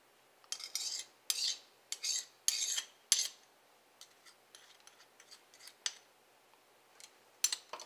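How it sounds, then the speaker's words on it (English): A fork clinks and scrapes against a bowl while mixing sauce ingredients, in irregular clusters of close, bright taps with short pauses and no talking. "So I like to use a fork and just mix it."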